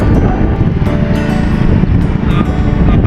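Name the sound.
strong wind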